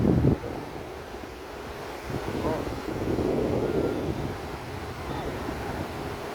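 Strong storm-season surf and wind at Patong Beach on the Andaman coast: a continuous broad roar of breaking waves with wind buffeting the microphone, loudest in a brief gust at the start.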